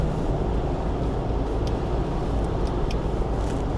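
A 2021 Ford Bronco's 2.3-liter engine fitted with a K&N cold air intake roars in a continuous, loud, dense rumble with broadband rushing noise, steady throughout and heard without talk.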